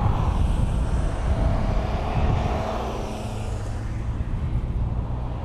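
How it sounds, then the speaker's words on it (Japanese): Traffic of cars and motorcycles on the Bandai-Azuma Skyline mountain road in the early morning, a continuous broad rushing roar of passing vehicles with wind buffeting the microphone, no voices. "あんまり車が途切れないです"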